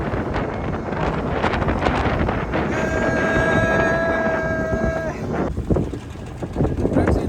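Strong wind buffets the microphone at sea on a fishing trip off Rameswaram island, a constant roaring gust with a brief tonal whine in the middle and a voice faintly heard underneath.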